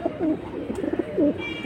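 Fancy pigeons, a pair of high-flying breeds such as khaki and silver hammer, coo in repeated low, rolling bursts close by, two or three throaty swells across a short stretch.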